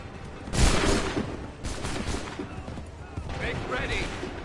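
A musket volley from a line of soldiers in Assassin's Creed III, a loud crackling burst of gunfire followed by a second volley and scattered shots, with commands and voices in the background.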